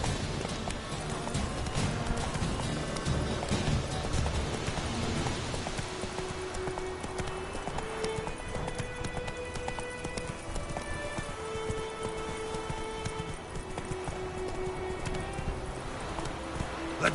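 Roach, a horse in The Witcher video game, gallops with a steady, rapid clip-clop of hooves that keeps going throughout, backed by continuous ambient game music and noise.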